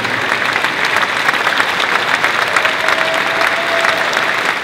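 Dense, sustained applause with some crowd noise fills the room at an airline and aerospace maintenance competition awards event, loud and continuous throughout without a break.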